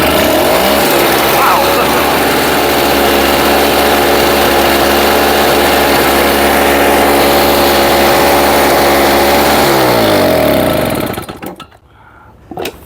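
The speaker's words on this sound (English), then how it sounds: "That's got a good little engine on it because I didn't choke it or nothing, and she started right up." A small snowblower engine, started without choke, runs at a steady, loud idle for about ten seconds, then cuts off abruptly, leaving near silence with a brief faint clunk.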